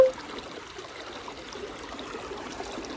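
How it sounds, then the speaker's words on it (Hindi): A stream flows beneath a natural dug-out bridge in Fateh Jhang, giving a soft, steady trickling rush that sounds faint and fairly distant, with no voices. "पानी तलू किस तरह गुजरना पा।"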